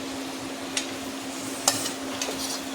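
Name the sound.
mixing potato curry with chaat masala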